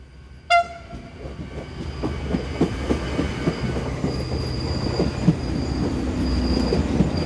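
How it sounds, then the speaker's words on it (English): A Class 610 passenger train arrives at a station with a short horn blast, then its wheels clatter and squeal as it rolls in close and steadily grows louder. "610028 is seen arriving with the 1320 service from Celje to Dermenech."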